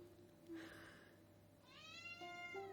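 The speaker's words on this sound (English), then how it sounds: "Squeaky cat." A cat gives two thin, squeaky, high-pitched meows a second apart, faint and close, against a quiet steady room hum.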